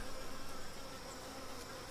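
Honeybees buzz steadily around a hive at a swarm capture, a dense continuous drone with no voices.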